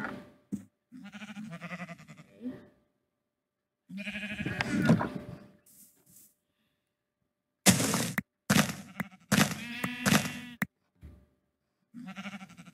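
Several sheep in a blocky survival game, one voice after another, bleating in separate bursts over about thirteen seconds, some soft and some sharp and loud, with pauses of silence between calls.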